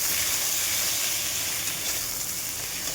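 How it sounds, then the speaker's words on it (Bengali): Ridge gourd frying in a pan for a home-style curry, giving a steady, loud hiss and sizzle that runs unbroken throughout with no talking. "ঝিঙ্গাটা আমি আলাদা একটু ভেজে নেব।"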